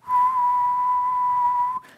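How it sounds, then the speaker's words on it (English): One person whistles a single steady low note, loud and close, held for nearly two seconds before cutting off abruptly. "If I was to whistle a little bit"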